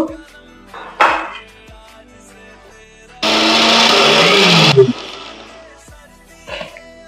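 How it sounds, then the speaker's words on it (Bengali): A kitchen mixer grinder grinds mustard seeds with green chillies into a paste in a loud, steady whir lasting about a second and a half, set between quieter kitchen clatter and a few soft knocks. "দিয়ে আমি এটা মিক্সিতে একটু বেটে নেব।"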